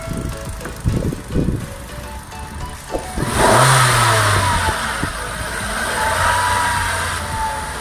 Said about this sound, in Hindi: अब मैं एक बार और एक्सीलेटर देता हूँ, कम से कम 3000 आरपीएम पर लॉक करूँगा